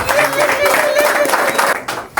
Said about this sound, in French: Je vous demande quand même d'applaudir le nouveau directeur général.